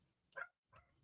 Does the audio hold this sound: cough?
no